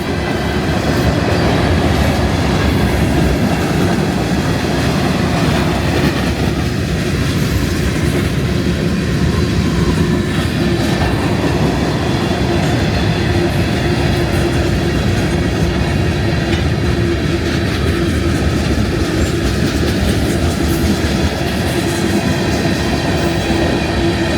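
A freight train rolls past close by, loud and continuous for the whole stretch, with wheel clatter, rumbling cars and faint metallic squeals and no voices.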